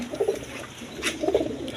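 Low, rolling coos from pigeons in a loft of yellow Gorra and high-flying Giribaz birds come in two clustered bursts, close and clear above a faint background with no voices.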